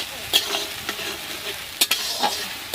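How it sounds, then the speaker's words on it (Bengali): Masala being stir-fried in a pan at an outdoor picnic by a pond, with a steady sizzle broken by several sharp scraping stirs of a spatula against the pan, close and fairly loud. "তো এটা আমি একটু কষিয়ে নিই মশলাটা একটু"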